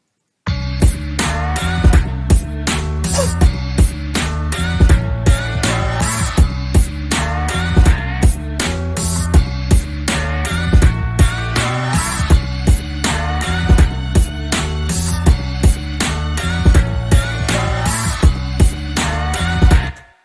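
A loud, steady boom bap hip hop beat with punchy drums, a thick bassline and chopped melodic samples looping evenly throughout, with no voices.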